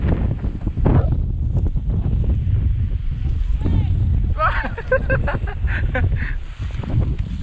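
Strong wind at sea during a fishing outing, heavy continuous buffeting against the microphone with honk-like tonal bursts midway, while people talk over the gusts.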